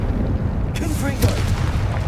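Explosions from the Confringo spell in Hogwarts Legacy: two sharp, booming blasts about half a second apart over a low rumble, with a voice talking through them.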